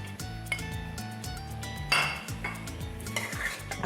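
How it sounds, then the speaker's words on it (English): Curry leaves and slit serrano green chilies stirred in a pan, with close metallic scrapes and clinks of the utensil against the pan over a faint sizzle, no talking. "A quick stir through"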